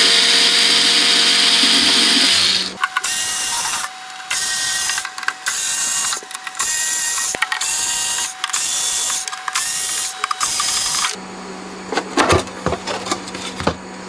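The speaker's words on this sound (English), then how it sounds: "Let's fit the right screwdriver bit in here, posi drive, and get these out." A powered screwdriver fitted with a Pozidriv bit backs screws out of the rear panel of a PS Audio Power Plant 300 power regenerator: loud whirring bursts in repeated short runs with brief pauses, followed by clattering handling sounds.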